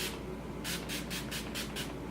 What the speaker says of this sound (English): Set it with my all-nighter setting spray.